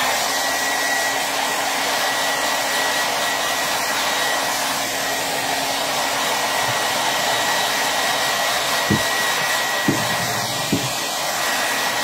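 A hair dryer blows steadily close by to dry paint on a planter box, a loud, constant whirring hiss with a few faint low knocks near the end and no talking.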